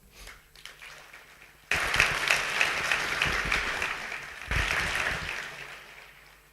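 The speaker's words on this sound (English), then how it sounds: "I want also a big round of applause for EST 6, the previous team, and this team who made this Superbike." A crowd applauds an electric superbike team at a motor reveal, starting abruptly and clapping steadily, swelling again midway, then fading out.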